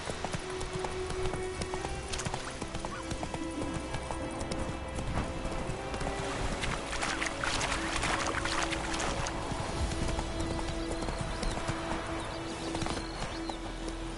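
Roach the horse trots along in The Witcher 3, hooves clip-clopping in a steady close rhythm over ambient game sound, with occasional voices in the background.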